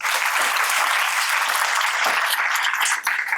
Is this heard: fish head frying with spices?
no